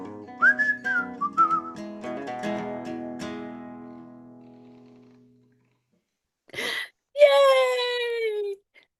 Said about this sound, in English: I don't think we've ever had anybody whistle on Spoken and Heard